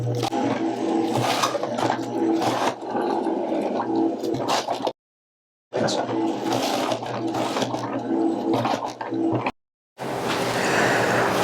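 A Robot Coupe food processor shreds cabbage with a steady whirring motor hum and rattling churn, running in long stretches broken by two brief silent pauses.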